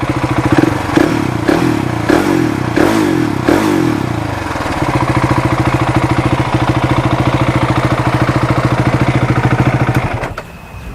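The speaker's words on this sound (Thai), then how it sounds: "เสียงเครื่องมันดังมาจากโรงงานนะมันเป็นเอกลักษณ์ของ KTM เลยนะครับมาฟังเสียงท่อกันดู" Big single-cylinder KTM motorcycle revved hard up close, several sharp throttle blips in a row, then a steady loud pulsing hold near the rev limiter before the engine drops back to a lumpy idle.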